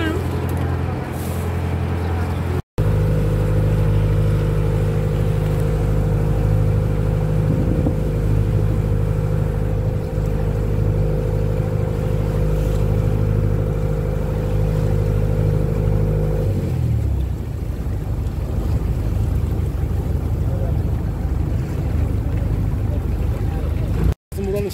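A ferry's engine drones steadily with a low, humming tone through most of the crossing, then shifts and fades as the boat docks; voices talk intermittently over the constant rumble.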